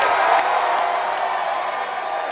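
A live crowd at a Channel 5 Q&A show in Portland, Oregon cheers and whoops for an audience member named Aaron, a sustained wash of cheering that eases off slightly.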